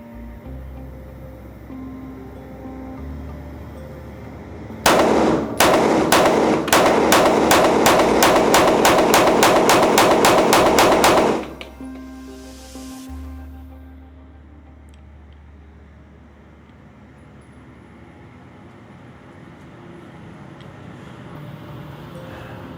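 A rapid string of about eighteen sharp, loud Canik Mete MC9 Prime pistol gunshots fired at a target from roughly six or seven yards at a range, evenly paced, then quiet.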